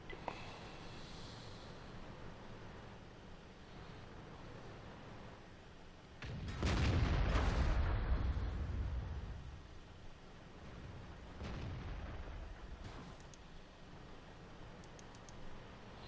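A single booming tank cannon shot in World of Tanks, heavy and rumbling, followed by a fading tail and a quieter later thump over faint background hum.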